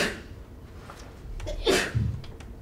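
A single sneeze bursts out in a lecture hall, a sharp breathy explosion followed by a lower exhale, close and fairly loud over faint room noise.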